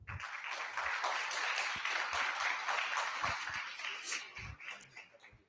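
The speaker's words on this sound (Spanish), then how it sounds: "Les pido que le demos la bienvenida con un aplauso" An audience at a book presentation on legal language applauds to welcome a speaker, a moderate steady clatter of clapping with a few low thumps, fading toward the end.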